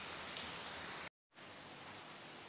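Rain falling steadily during the rainy season, soft and even hiss of drops on surfaces, quiet and continuous with a brief gap of silence midway.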